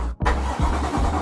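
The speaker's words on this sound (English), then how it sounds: "let's start the engine, see if we got all of the gears" A BMW S55 engine with a DCT gearbox in a drift car starts up: a short starter whir, then it catches into a loud, close idle with rhythmic surges.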